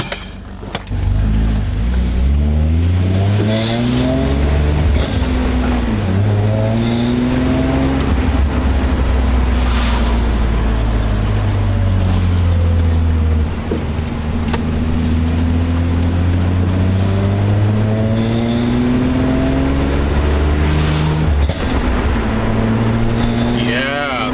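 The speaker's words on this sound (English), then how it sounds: "So give him a little test drive." A Nissan Altima SER with a new intake manifold on a test drive, its engine rising and falling through the gears in a loud, steady drone heard from inside, with occasional clicks and a voice speaking at times.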